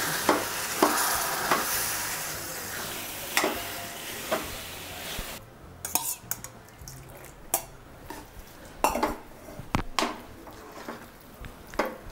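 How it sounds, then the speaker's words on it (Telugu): Milk poured into a kadai over bread pieces for double ka meetha is stirred with a ladle, giving repeated scraping strokes and wet swishes over a soft sizzle, with the strokes growing sharper and more distinct toward the end. "ఈ పాలని కడాయిలో పోసి మొత్తం కలుపుకోవాలి"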